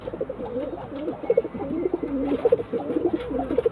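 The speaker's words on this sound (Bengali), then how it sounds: "খুব সুন্দর পায়রা দেখুন" Pigeons in a breeder's loft coo in soft, repeated throaty phrases, fairly quiet and close, with no talk over them.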